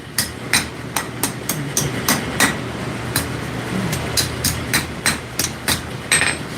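Hot steel being hammered on the edge of an anvil during forging, a sharp metallic ringing strike repeated in an uneven but steady rhythm of about two blows a second, close and loud.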